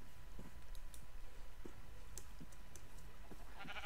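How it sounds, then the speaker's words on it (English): Sheep bleat in a modded Minecraft survival world, a few short calls scattered over a steady low game ambience with faint clicks, at moderate level. "Hello, sheep."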